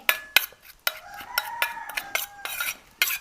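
Lime paste being stirred in a bowl, with repeated sharp scraping clicks of a utensil against the sides in an uneven rhythm, close and fairly clear, without any talk.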